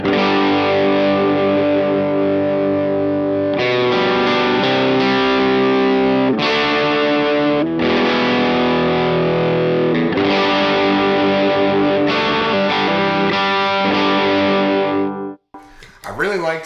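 Electric guitar through a Boss Angry Driver blended with a Boss Blues Driver, loud and gritty with thick overdriven chords and arpeggios ringing continuously, ending with a brief cutoff and a voice at the very end.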